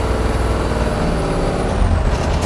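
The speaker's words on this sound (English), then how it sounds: "And then we do it again just with the park brake at 15 miles an hour, and it has to stop within 50 feet." A vehicle brakes hard to a stop from 15 mph using only the park brake, giving a loud, steady rumble of engine and road noise with a hiss of air brakes near the end.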